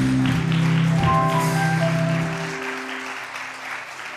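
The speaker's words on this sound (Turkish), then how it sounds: "Alkışlarla Tuncay Bey'i uğurlayalım." A television studio audience applauds as a guest is sent off, the clapping running under music at first, then continuing alone and tapering off.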